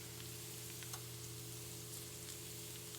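Chopped garlic sizzling in a hot pan with rosemary, a steady soft hiss of frying with faint scattered pops, even and unbroken throughout.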